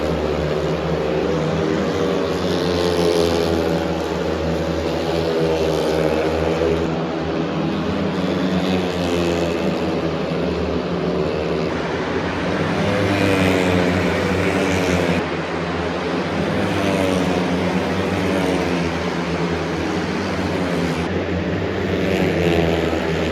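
Speedway motorcycles race in qualifying and a sprint session at the Warsaw Speedway Grand Prix 2024 in the Narodowy stadium, a steady loud engine roar blended with crowd noise that rises and falls over the whole stretch.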